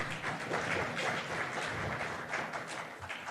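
Applause from an audience at a national science fair, a steady dense patter of many hands clapping that carries on evenly throughout at moderate volume.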